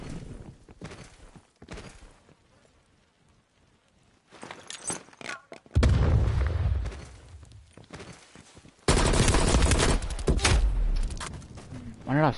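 Rapid bursts of gunfire from the Warzone battle royale game, loud and dense around the middle and again toward the end, with game sounds and movement between the volleys.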